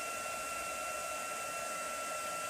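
A hair dryer runs steadily at close range, drying a freshly decorated glass jam jar, its whirring airflow hum constant with no other sounds.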